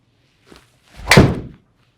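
A single crisp, solid strike of a golf ball off a PING driver, fairly close and loud, with a short decaying tail and a faint tick just before it.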